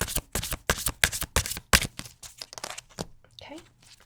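Crisp riffling bursts of cards being shuffled, repeated several times in quick succession, close up, fading into softer handling noises at the end.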